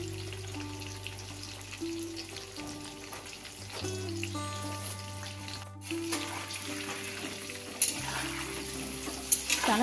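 Potatoes fry in oil seasoned with salt and turmeric, giving a steady, soft sizzle throughout while sustained musical tones play over it.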